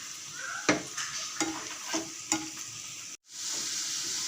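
Fish frying in a pan sizzles steadily while a utensil scrapes and stirs in a regular rhythm, close up. The sound cuts off briefly near the end, then the frying hiss resumes.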